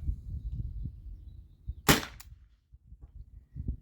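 A single sharp air-powered shot from a T4E TR68 marker firing a round ball off an HPA tank, one short loud crack standing out against quiet room noise.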